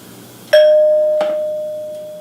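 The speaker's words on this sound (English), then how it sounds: "everybody gets to hear what a 1938 NuTone 2-note Model B door chime sounds like" A 1938 NuTone Model B two-note door chime rings once, a single bright struck tone with a long sustained ring, followed by a softer second strike that blends into the decay; close and clear with no talking.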